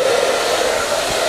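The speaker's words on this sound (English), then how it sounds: "Anyway, we need a dryer." A hair dryer blows steadily up close to dry wet paint, a loud continuous whooshing whir with a steady motor hum and no pauses.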